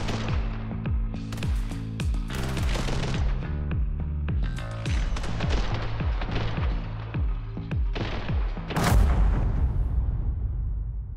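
Gunfire in the top-down shooter The Hong Kong Massacre, with a rapid run of loud, sharp shots over a steady synth music bed and a heavier blast near the end.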